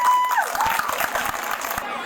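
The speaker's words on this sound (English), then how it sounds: "give yourselves a round of applause" A crowd applauds and cheers at the 2022 Carlisle Castle park build event, with a dense, steady wash of clapping that carries through the whole moment after a brief whistle-like tone at the start.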